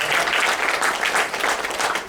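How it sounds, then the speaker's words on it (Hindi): A crowd applauds children performing theatre in a tribute to Habib Tanvir, loud dense clapping throughout with slight pulsing. "इनके लिए तालियां"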